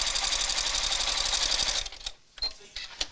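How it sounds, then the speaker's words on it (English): A sewing machine running fast and steadily as it stitches pieces of a bag together, with larger holding stitches rather than a seam; the loud even whirr lasts about two seconds and stops, followed by a few faint clicks and handling sounds. "just to hold it in place while I sew the rest of the bag together"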